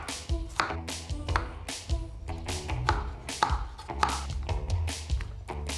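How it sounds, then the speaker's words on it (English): Rapid, uneven knife chops strike a cutting board up close as zucchini is cut into bite-sized pieces, a steady series of crisp thuds with faint background hum. "I'm going to chop the zucchini now into some bite-sized pieces."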